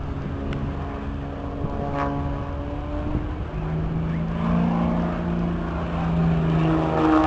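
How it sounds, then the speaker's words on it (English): Carbon fibre aerobatic aircraft flying a slow roll at an airshow, its propeller engine droning steadily at a distance with a slowly shifting pitch, rising slightly toward the end under open-air background noise. "A carbon fibre aircraft which combines lightweight with the great strength necessary to withstand the extremes of high-G aerobatic manoeuvres."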